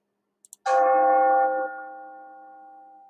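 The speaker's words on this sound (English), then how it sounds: "As the bell sounded the hour" After two tiny clicks, a single deep bell strikes the hour loudly and rings on, its rich tone slowly fading.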